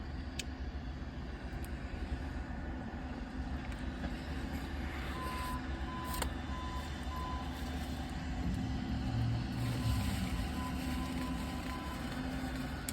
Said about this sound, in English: There's not much I can do about the snow plows.